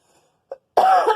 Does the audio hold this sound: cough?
yes